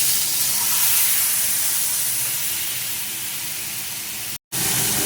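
Water splashed into a hot pan for an eggplant curry with ginger paste and ground spices, giving a loud, steady steaming hiss that carries on for several seconds, cut off by one brief silent gap near the end.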